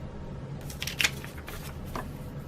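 Scissors cut through material in a brief series of close, crisp snips and rustles, with one sharper cut standing out at moderate loudness.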